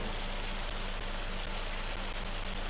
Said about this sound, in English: Man, I just love the rain effect.